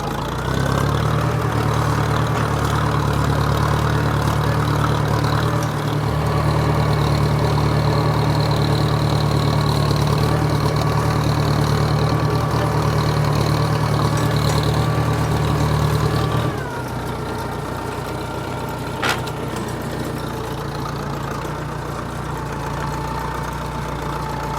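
A Case 430 tractor engine idles steadily and loudly nearby, a constant low rumble that drops to a quieter, lower idle about two-thirds of the way through.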